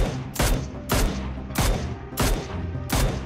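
Video game gunfire in five evenly spaced, sharp shots roughly every half second, each a loud crack with a short decaying tail, heard alone without talk.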